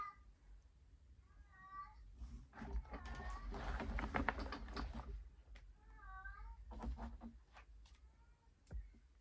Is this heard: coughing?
no